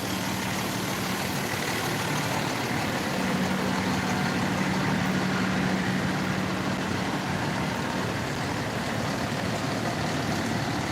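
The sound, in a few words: fire engine idling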